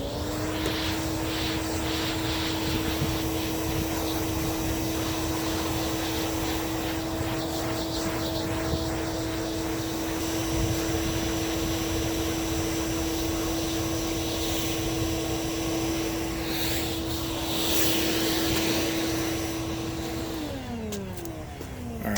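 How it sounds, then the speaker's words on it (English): A vacuum cleaner drones steadily over a fabric car cover, a constant tonal whine with broadband suction noise that holds for about twenty seconds before winding down at the end. "So I'm just going to put on the vacuum and do this very quickly here."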